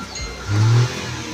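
A Nissan engine with a suspected exhaust blockage or faulty oxygen sensor revs briefly during acceleration, a short mid-pitched rise and fall close by with no talking.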